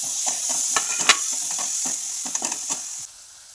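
Coriander and chopped tomato sizzle in hot oil for rajma, a steady crackling fry broken by spatula scrapes against the pan, close and unvoiced until the sizzle drops away near the end.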